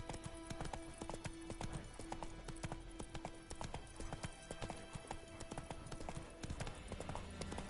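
Roach, the horse in The Witcher 3, clops along in a steady rhythmic gait, hoofbeats loud and close over a dense game soundscape, with a faint voice now and then.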